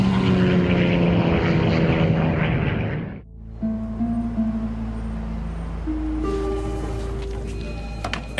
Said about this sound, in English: Air traffic controllers watch as a 19-passenger plane plunges towards the Earth.